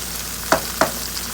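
Habanero salsa ingredients sizzle steadily in a pan, and two distinct scraping stirs cut through the frying noise close up with no voices.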